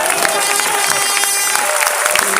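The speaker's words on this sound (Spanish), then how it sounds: "Un aplauso al Señor." A church congregation breaks into loud, dense applause mixed with crowd noise, sustained and close throughout a short burst.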